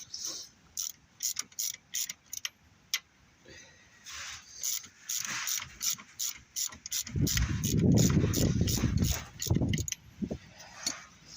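A coil spring compressor is loosened on a front strut of a Skoda Felicia pickup, giving a run of close, sharp metallic ratcheting clicks in quick bursts, with a heavier grinding rumble of tool and spring midway.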